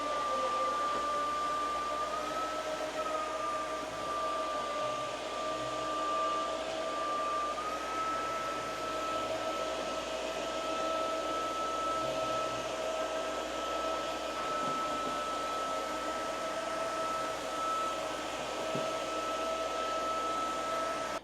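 A Roborock F25 Ultra steam vacuum cleaner for hardwood floors runs with a constant airy whoosh and a thin high whine, steady and close throughout.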